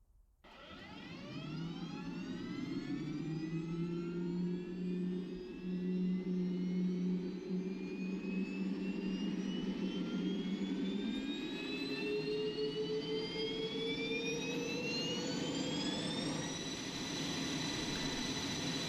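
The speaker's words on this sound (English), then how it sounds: "I gotta say, that Dash 60 sounds oh so familiar" A Dash 60 turbine ground power unit supplying an F-4E in DCS World whines steadily, its high-pitched tone rising gradually as it spools up, loud and continuous throughout.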